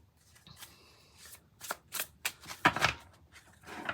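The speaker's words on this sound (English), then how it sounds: "Pardon the shuffling." A tarot deck is riffled and shuffled close by, a series of quick papery flutters and snaps growing busier toward the end, with no voices.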